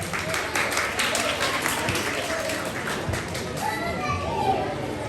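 Steady applause fills a kindergarten graduation hall, blending with children's chatter and playful noise as a continuous wash of claps and voices over several seconds.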